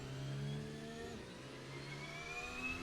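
A Formula 1 car in Assetto Corsa runs on the pit limiter with a steady, held mid-pitch engine drone and a slight rise in whine, leaving the pit lane with no talk over it.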